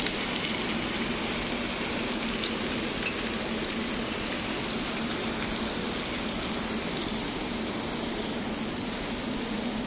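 Onions dropped into hot oil, frying with a loud, dense, even hiss that stays unbroken and steady from start to finish, no talking.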